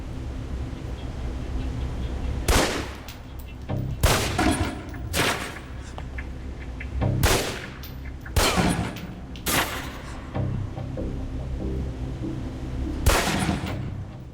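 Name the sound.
pistol shots at a target in video game Alpha Protocol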